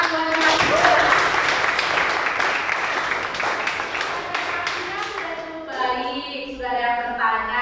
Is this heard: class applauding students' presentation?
yes